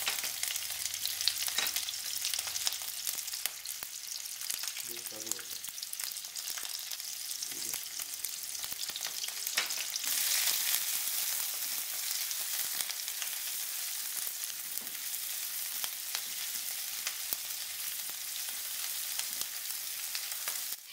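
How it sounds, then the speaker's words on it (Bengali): Chopped onion, ginger, garlic, green chillies, coriander stems, a red chilli and green and black cardamom fry gently for butter chicken: a soft, even sizzle with occasional spoon taps against the pan. "হালকা ভেজে দিয়ে দেবো পেঁয়াজ কুচি, আদা, রসুন, কাঁচা লঙ্কা, কোরিয়ান্ডার স্টিক্স আর একটা লাল লঙ্কা।"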